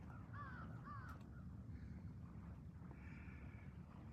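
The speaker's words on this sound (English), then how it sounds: "You'll hear a lot more from crows now." Crows caw outdoors in a springtime yard in Weymouth at sunset. Two quick, faint, distant caws come early, with later calls over light wind.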